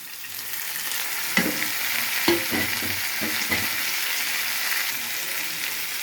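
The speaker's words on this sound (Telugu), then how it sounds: "టమాటా కూడా వేసేద్దాం" Tomatoes frying in a pan for wheat upma give a steady close sizzle, broken by several sharp stirring scrapes and clatters in the middle, with no talking.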